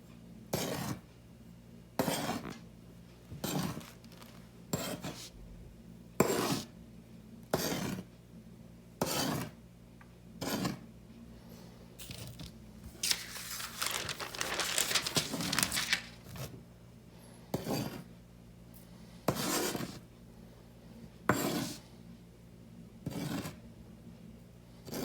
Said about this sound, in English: I'm going to get a spoon, and I'm going to just go spoon up into my cup.